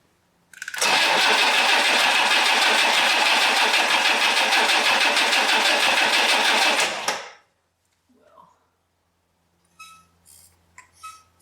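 A 1962 AMC Rambler engine, an abandoned car under repair, cranks and starts at close range and runs loud and steady for about six seconds before cutting off abruptly, followed by faint knocks and brief clatter.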